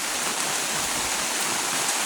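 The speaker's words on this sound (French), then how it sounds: "Il pleut depuis hier soir sans discontinuer." Steady rain falls without pause on a campsite in Moselle, heard from a camper van as a dense, even hiss of drops with no gaps and no voices.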